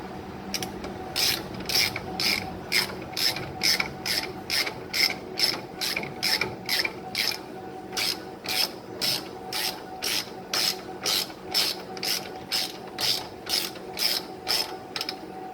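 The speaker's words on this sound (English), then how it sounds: "is I'm gonna take ratchet and pull them down into place" A hand ratchet clicks in steady, rapid bursts while tightening a strut rod on a 1968 Ford Galaxie 500, with loud, close, evenly spaced clicking strokes repeating throughout over a faint background hum.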